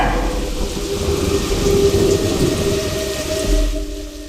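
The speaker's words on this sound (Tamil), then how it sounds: "மழை" Steady, loud rain pours down with low rolling thunder rumbling beneath it, a storm sound effect opening a Tamil stage drama, continuous throughout with no voices.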